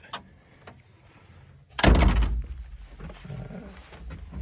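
A mini excavator's cab door swings shut with one sharp, heavy thunk, followed by a lingering rattle and low hum inside the cab, close and loud after a few quiet faint clicks.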